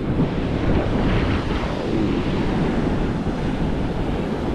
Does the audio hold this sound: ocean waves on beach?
yes